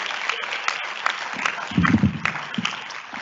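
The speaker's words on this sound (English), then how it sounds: "So can we give everybody a round of applause, please?" Applause rises from the audience at a graduate school hooding ceremony, a moderately loud patter of many hands with a fuller, closer burst of clapping near the middle.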